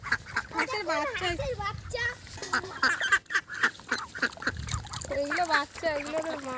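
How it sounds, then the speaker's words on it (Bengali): A mother duck and her ducklings quack in repeated, irregular bursts, close and fairly clear, several calls overlapping with some softer peeps between them. "হাঁসের বাচ্চা"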